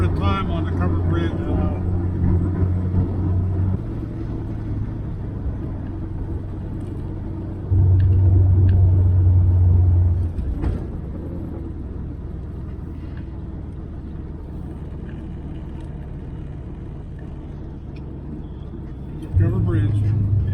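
A Triumph TR4A sports car drives toward and through a one-lane covered bridge, its engine a steady loud rumble with two louder swells, under people talking throughout.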